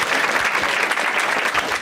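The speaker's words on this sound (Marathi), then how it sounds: "ठीक आहे एकदा टाळ्या वाजवा दोघांसाठी" Sustained dense clapping from a comedy show audience during a Marathi stand-up set, steady and fairly loud throughout with no talk over it.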